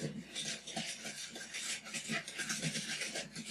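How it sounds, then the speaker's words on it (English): Egg being whisked into sour cream pecan coffee cake batter, a steady close scraping and rasping of the whisk in the bowl with quick rhythmic strokes throughout, no voices. "So we're first going to whisk in 1 egg"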